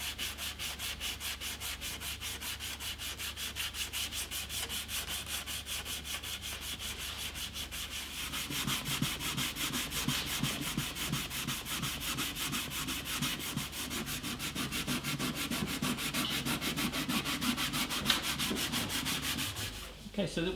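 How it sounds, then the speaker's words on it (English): Sandpaper rubbing over the logo on an antique parlour guitar during French polishing, a steady rhythmic back-and-forth scratching that grows slightly fuller and louder halfway through, close and alone. "In theory, I can now sand over the top of the logo, and the logo will remain."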